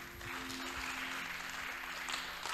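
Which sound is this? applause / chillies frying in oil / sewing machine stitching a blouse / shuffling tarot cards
applause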